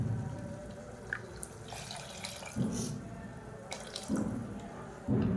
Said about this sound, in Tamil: இந்த ஸ்டேஜில் தண்ணி சேர்த்துக்கலாம்.